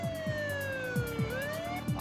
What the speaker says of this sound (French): Le sergent Pepper branche alors sa sirène et oblige son propre véhicule à s'arrêter.